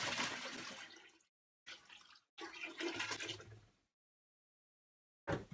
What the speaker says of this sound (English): So you're going to want to fill your turkey fryer.